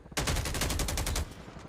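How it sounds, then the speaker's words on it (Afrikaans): Rapid automatic gunfire in a competitive battle royale video game scrim match, a loud close burst of about a dozen evenly spaced shots lasting roughly a second, then a quieter tail. "Skote wat nou geskiet word daar."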